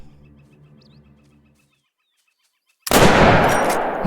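A 10-gauge shotgun fires at a wild turkey in the hunting game Call of the Wild: one sudden, loud blast bursts in after about a second of silence, following faint clucking and gobbling birds.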